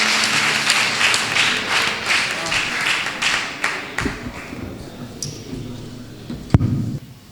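Audience at a Hindi kavi sammelan poetry gathering applauds poet Aman Akshar with dense, loud clapping that fades into scattered claps, with a few sharp knocks near the end.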